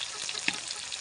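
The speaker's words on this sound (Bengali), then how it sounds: "দিয়ে ভালো করে পেঁয়াজটাকে ভাজবো।" Chopped onion, ginger, garlic and slit green chilli frying in a pan for chilli chicken, a dense close sizzle with a brief clink of stirring in the middle.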